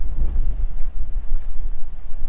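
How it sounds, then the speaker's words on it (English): Strong, gusty wind buffets the microphone with a steady low roar that swells and dips throughout, outdoors at a mine site in the Western Australian Wheatbelt. "So it's still very windy"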